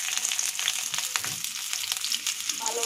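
Chili peppers frying in hot oil in a home kitchen make a steady, close sizzle with crackling pops, running alone and evenly throughout.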